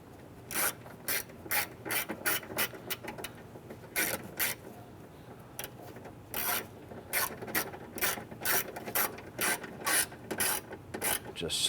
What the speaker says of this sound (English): Let's go ahead and get these screws installed. Just snug that in.